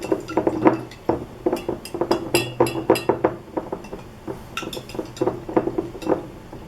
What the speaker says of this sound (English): we're going to use a disposable spoon, and then we're going to get down in there and we're going to